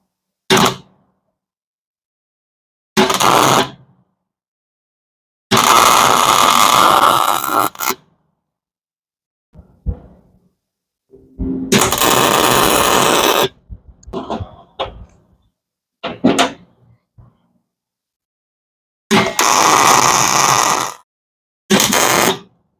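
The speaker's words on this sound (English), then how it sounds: "Let's go get this thing welded up." Welding a steering wheel onto a hot rod, heard as loud, close bursts of buzzing, crackling arc noise, each lasting a second or two and separated by silences, with a few scrapes and knocks between them.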